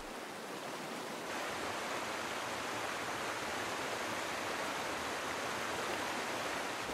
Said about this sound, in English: Within hours, every riverbed fills with life-giving water.